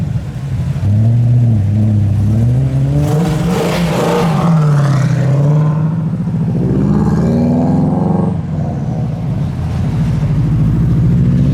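A car fitted with a flame kit revs hard at a parade, loud, close engine roars rising and falling in pitch through repeated blips, continuous and dominant for the whole stretch.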